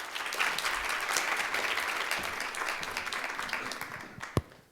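An audience applauds to welcome panelists onto the stage at a Chicago Council on Global Affairs health care event, a dense sustained clapping that slowly tapers off, ending with one sharp clap.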